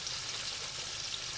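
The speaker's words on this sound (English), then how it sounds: "I'm going to throw my mushrooms in." Mushrooms sizzle and crackle steadily in a hot pan, a continuous bright hiss at moderate volume with no voices over it.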